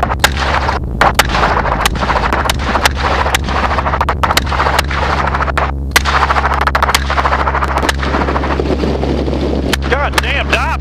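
Repeated gunshots ring out from a helicopter at wild hogs, with a steady rotor and engine drone underneath, sharp cracks spaced irregularly across the stretch, loud and close, with voices speaking over it.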